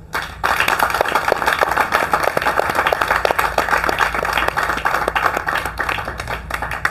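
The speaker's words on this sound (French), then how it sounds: "est-ce qu'on peut les applaudir?" An audience at a round-table discussion on art and culture claps for the panelists, with loud, continuous, close applause starting abruptly and holding steady throughout.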